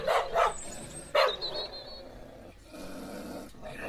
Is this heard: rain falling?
no